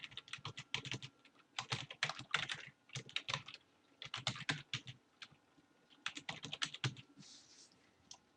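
Brisk bursts of typing on a computer keyboard, quick clusters of key clicks separated by short pauses, close and fairly quiet with no talking.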